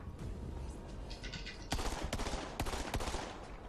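Gunfire rattles in Borderlands 3, a quick fusillade of sharp shots that grows louder partway through, with distinct cracks standing out over a steady background of game noise.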